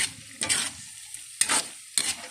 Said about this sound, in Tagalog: Ayan. So, haluin natin.